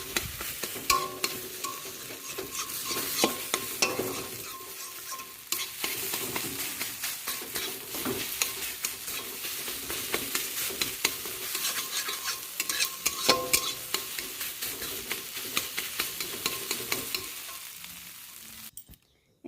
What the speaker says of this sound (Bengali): এদিকে ডিমটা ভেজে নিচ্ছি